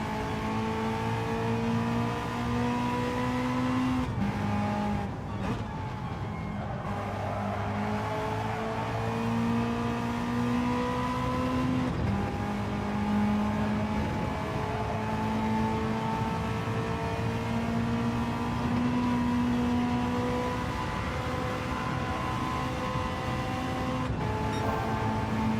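An old racing car in Gran Turismo 7 revs hard through its five gears, a loud, steady engine whine that drops briefly at each gear change before climbing again, with no talking.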